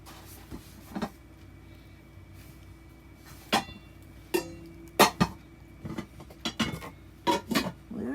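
Nonstick metal pans and lids, including a small frying pan's lid, clink and clatter in scattered, sharp bursts, some ringing briefly, at close range in a quiet room.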